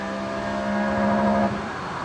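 A modified BMW 2.8 engine fitted with S52 cams revs up, its steady tone climbing and holding for about a second before dropping back to a settled idle, loud and close with no voices.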